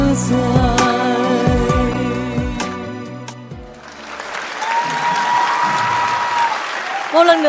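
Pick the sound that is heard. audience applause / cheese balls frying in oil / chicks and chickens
audience applause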